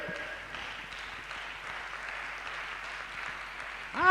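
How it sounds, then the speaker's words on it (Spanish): Sustained applause from a church congregation, an even wash of clapping that stays level throughout and swells slightly at the very end. "Dale fuerte ese aplauso al Rey."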